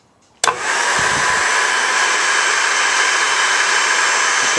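A Leeson permanent magnet DC electric motor with a cooling fan at the back starts abruptly and then runs steadily at 4,000 RPM, giving a loud, continuous, even whir and hiss that holds without change.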